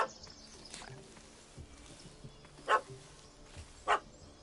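A puppy in The Witcher video game gives two short, sharp yips a second apart over quiet ambient game sound, fairly close and alone.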